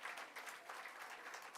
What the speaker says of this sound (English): they deserve a well round of applause from all of us